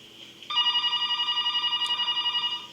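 A telephone rings in a scene from Buffy the Vampire Slayer, a steady electronic trill that pulses evenly for about two seconds at moderate loudness with no voices over it.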